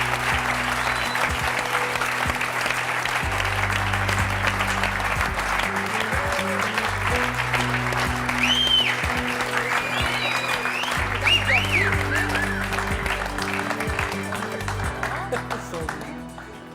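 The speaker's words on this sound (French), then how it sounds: "je vous demande d'accueillir et d'applaudir Sandrine et Françoise." A French television studio audience applauds two women guests, sustained loud clapping throughout, with music playing underneath and a voice speaking over it.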